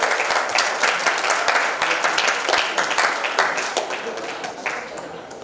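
An audience at a youth entrepreneurship bootcamp and festival breaks into steady, dense applause, loud and continuous for several seconds with individual claps poking through, tapering slightly toward the end.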